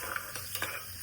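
Cumin seeds fry in ghee for jeera rice, a brief, steady sizzle with a few light stirring clinks.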